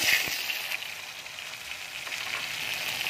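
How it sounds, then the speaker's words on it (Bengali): Bottle gourd leaf paste hits hot oil tempered with nigella seeds and sizzles in a loud, continuous frying hiss close to the pan, with no talk. "এবার আমি লাউ পাতাটা দিয়ে দিচ্ছি।"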